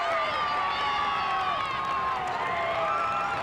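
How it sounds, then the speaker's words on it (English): Crowd roaring at a 1978 New Jersey high school hockey championship game between West Essex and Livingston in an arena, a loud, sustained wall of cheering and shouting that holds steady throughout. "A roar going up from the crowd"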